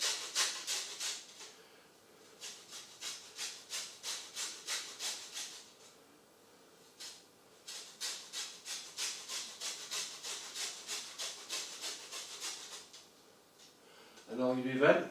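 A peeler scrapes the skin off a lemon for zest in a rapid run of short rasping strokes, in bursts with brief pauses, close and fairly quiet, then a knock at the end.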